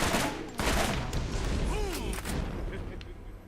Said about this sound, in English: Why are all assault rifles burst fire?